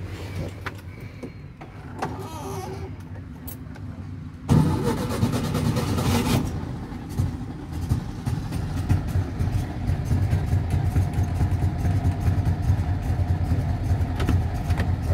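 A 1972 Volkswagen Fusca 1500 engine cranks and catches partway through, then settles into a steady, rumbling idle that continues to the end.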